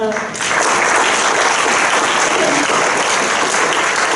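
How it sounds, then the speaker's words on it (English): Applause from the audience at the FSE 2018 welcome remarks, a dense, steady wash of many hands clapping that swells in after a brief start and holds loud throughout, with faint voices mixed in. "So I would like you to applaud them for that."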